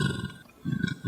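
A person imitates a gorilla's belch vocalization: two deep, rumbling guttural bursts separated by a short pause, close and fairly loud.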